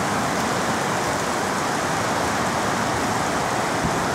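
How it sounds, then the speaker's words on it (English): Heavy rain pouring down in Bangkok during the rainy season, a steady, dense broadband hiss that holds unbroken and loud throughout, with no voices. "Heavy rain,"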